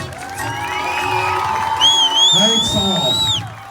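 An audience at a Kannada shadow play performance by Prahalad Achar breaks into loud cheering, whoops and shouting, with a sustained crowd roar and a high pitched whistle rising near the end before fading.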